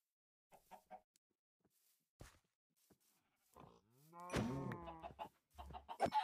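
Minecraft chickens cluck in a short series of soft, clipped calls, then a louder burst of overlapping bird-like squawks and warbling tones near the end, fairly close and with no talking.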